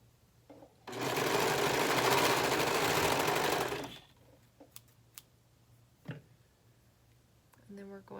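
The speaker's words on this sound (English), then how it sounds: "we're gonna sew the ends of the neckband together" A sewing machine stitches the ends of a shirt neckband together in one fast, steady burst of about three seconds, then stops, leaving faint clicks and handling noises in a quiet room.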